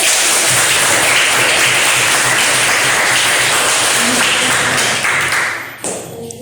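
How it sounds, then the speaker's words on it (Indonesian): Classroom of students clapping their hands together, a loud dense burst of applause that carries on evenly and then tails off near the end. "Tepuk tangan."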